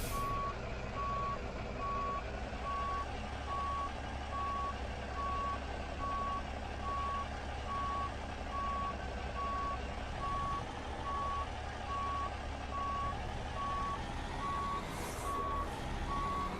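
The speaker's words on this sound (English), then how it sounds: "Sorry about the backup beeper." A steady, loud truck backup beeper repeats at an even rhythm throughout, layered over a low idling diesel rumble from an American Truck Simulator rig. No one speaks.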